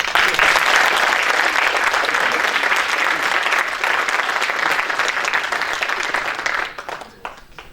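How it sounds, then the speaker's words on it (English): Conference audience applause, loud and continuous for several seconds before thinning out and fading near the end. "Okay, please give it another applause."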